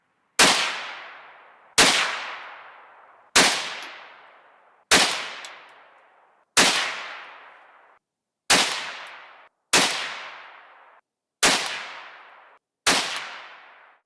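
Nine sharp gunshots from a .22 WMR rifle firing Hornady 45 grain Critical Defense ammunition, each loud crack followed by a short decaying ring, spaced evenly about every one and a half seconds outdoors with no talk.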